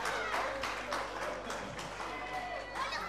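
Football fans in a stadium applauding a 4-1 win over Lokomotiv at the final whistle, a faint, distant wash of clapping and crowd noise with soft swells.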